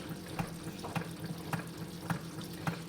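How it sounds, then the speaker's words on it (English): A Keurig coffee machine forces hot water through a Starbucks K-cup with its bottom cut off, giving a soft, steady trickle and gurgle with regular faint pulses from the pump, heard quietly on its own. "I cut the bottom of a Starbucks K-cup off, and that's how I trick it now into making me water"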